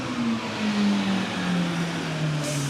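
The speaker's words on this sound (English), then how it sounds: "This is the garbage truck." A garbage truck passes along Sheridan in Chicago, a loud, steady engine drone with a slowly falling pitch as it rolls by close and continuous, with no speech over it.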